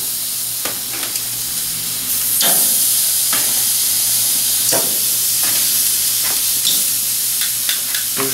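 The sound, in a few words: chicken searing on the hot side of a grill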